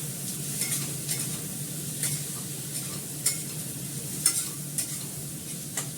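Homemade spice mix sizzling steadily in a pan on a gas stove, a constant frying hiss with light scrapes and taps from stirring, no talking.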